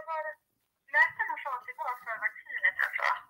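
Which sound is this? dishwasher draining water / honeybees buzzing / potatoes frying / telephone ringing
telephone ringing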